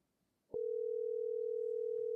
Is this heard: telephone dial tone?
yes